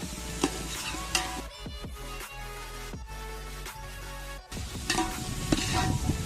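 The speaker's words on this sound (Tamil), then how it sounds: "வெங்காயம் நல்லா வதங்கணும்" Onions sautéing in a pan for chicken biryani give a steady, close sizzle with occasional stirring scrapes, continuing without any talk.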